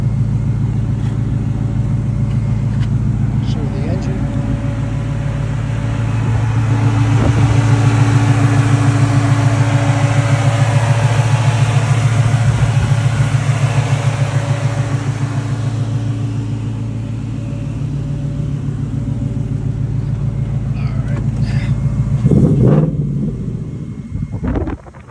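A 1969 Ford Mustang restomod idles steadily nearby with a deep, even rumble and a low tonal drone, rising slightly in loudness midway and ending with a brief clatter near the close.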